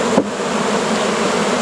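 Honey bees buzz steadily in a beeyard in August, a dense continuous drone from many insects close by, with one bee passing near the microphone.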